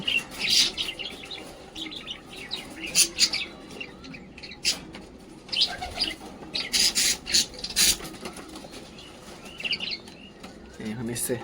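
Pet pigeons at a home loft cooing and chirping with intermittent bursts of wing flapping, close and uneven, over a busy background with faint voices.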